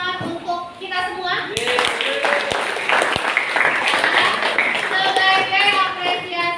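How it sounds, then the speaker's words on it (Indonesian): Classroom students clapping together, starting after a moment of voices with a burst of loud, close handclaps and a few sharp taps, continuing as rapid clapping mixed with children talking and shouting. "mari kita tepuk tangan untuk kita semua"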